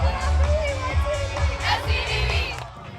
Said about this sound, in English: The match drew a great crowd to produce a fun atmosphere for the Storm's 7 graduating seniors' last game.